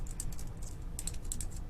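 Steady typing on a computer keyboard at a Windows 10 PC, quick bursts of light key clicks close by with no voices.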